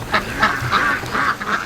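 Ducks quack in a steady series of nasal calls, close by and fairly loud, with several birds overlapping.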